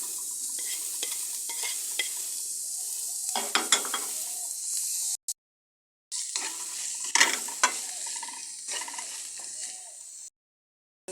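Deboned fish and finely chopped potatoes are stirred in a pan, with repeated scraping strokes over a low sizzle, broken by two short silent gaps.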